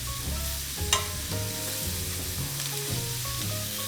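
Button mushrooms and carrots fry in butter with a little salt in a pot, a garnish for beef bourguignon. A steady, close crackling sizzle runs throughout, with occasional stirring scrapes and no talk.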